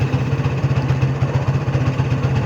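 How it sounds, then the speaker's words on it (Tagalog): A motorcycle engine warming up at idle, a steady close low-pitched putter with an even pulsing rhythm throughout. "nagpapainit pa nga tayo ng motor"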